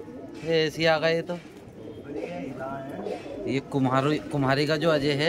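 Pigeons being brought down from flight by a keeper, their soft cooing and calls mixed under steady close conversation between men throughout.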